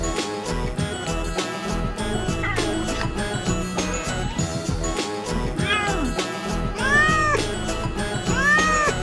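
A cat meows on a farm, its rising and falling calls standing out over a busy, continuous backdrop of music and other farmyard sounds.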